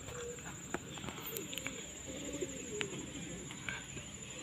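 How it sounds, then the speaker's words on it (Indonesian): Pigeons cooing at a pigeon racing (tottaan merpati) venue in Bendoarum village in 2023: soft, repeated coos with occasional clicks and flutters over a thin, constant high-pitched hum. "Ini merpatinya sudah terbang ya."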